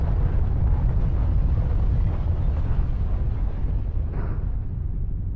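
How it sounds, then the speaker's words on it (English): Bombs explode during a war cutscene in the video game Not For Broadcast, a continuous loud rumbling roar with a sharper burst near the end, dense and close throughout. "Wait, are they dropping bombs on us?"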